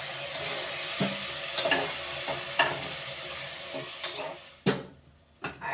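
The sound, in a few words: tomato and curd paste frying with vegetables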